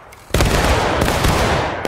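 A musket volley fired on command in the War of Rights video game bursts out as one loud, dense crack that rolls into a sustained rumble and crackle of overlapping shots, with no talk.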